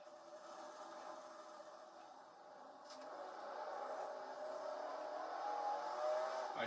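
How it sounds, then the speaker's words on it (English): Race car engines drone steadily in a racing video game played on a PowerPC Mac, a faint, even hum that rises slightly in intensity toward the end, with no talking. "Drivers, start your engines."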